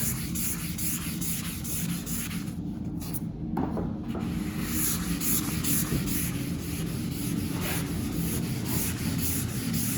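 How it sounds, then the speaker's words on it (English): Continuous scratchy sanding of a car body panel, steady and close, rubbing back and forth without pause for the whole stretch, with no voices. "When sanding, trying to make a nice panel"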